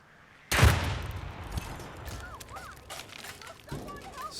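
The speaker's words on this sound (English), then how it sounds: "So he can see me firing." Gunfire in Hitman 3 cracks out in a sharp burst, trailed by scattered shots and metallic whines beneath background game noise.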